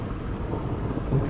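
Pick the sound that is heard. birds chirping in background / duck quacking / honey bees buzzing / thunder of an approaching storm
thunder of an approaching storm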